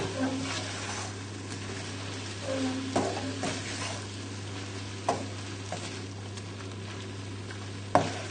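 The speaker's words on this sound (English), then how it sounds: "just stir in the parsley and we'll be ready to plate up" Parsley is stirred into creamy bacon and mushroom tagliatelle in a pan, giving soft scraping and gentle sizzling over a steady low hum, with a few faint knocks.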